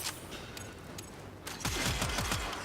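Tenora assault rifle in Warframe fires a sustained rapid burst of gunfire, loud and close, after a quieter stretch of softer game sounds.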